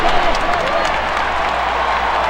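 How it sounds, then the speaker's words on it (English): Baseball stadium crowd in MLB 2K5 roars with steady, dense cheering and applause that fills the whole stretch at a loud, even level without letup. "The crowd is excited."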